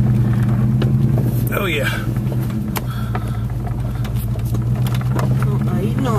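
Dodge Durango rolling downhill in four-wheel low on a rough track, steady low engine drone with scattered clunks and rattles, while someone talks briefly over it.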